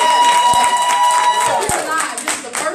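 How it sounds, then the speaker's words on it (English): Audience at a live conference session clapping together on request, a steady, fairly loud patter of many hands that fades slightly toward the end, with a voice speaking over it. "And we want you to clap one more time,"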